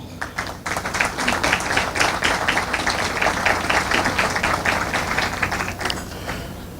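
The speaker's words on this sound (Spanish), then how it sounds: "Yo creo que el hecho de que estemos aquí merece un fuerte aplauso." An audience at a Holocaust commemoration breaks into sustained applause, dense rhythmic clapping that swells after a brief start and carries evenly for several seconds before tapering off.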